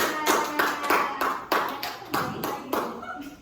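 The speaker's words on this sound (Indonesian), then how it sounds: "Tepuk tangan dulu, Mbak Tika" A classroom of children claps in a quick rhythmic pattern of sharp, close bursts, loud and clear, repeated several times.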